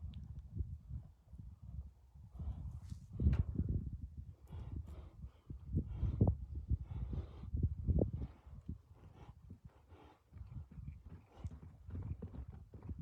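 Mustang horses moving about a pen, their hooves clip-clopping in an irregular, overlapping patter at close range, with occasional louder thuds and no talk.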